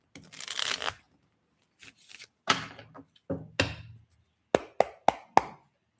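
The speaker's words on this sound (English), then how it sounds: "Let's see, one more shuffle." A deck of tarot cards shuffled by hand, heard as a long riffle followed by several short bursts and a few sharp taps of the cards being squared, close and clear against silence.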